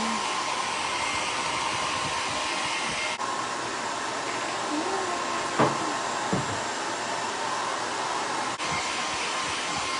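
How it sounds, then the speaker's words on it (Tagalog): A pet blower roars continuously at close range drying a dog, a steady loud rush of air with a couple of faint knocks underneath. "Ibo-blower na natin siya."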